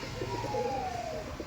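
Pet pigeons in a home loft give a short, soft, rolling coo against a light background hum.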